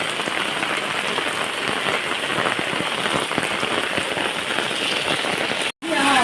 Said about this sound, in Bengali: বৃষ্টিতে পুরো বন্য হয়ে গেছে সব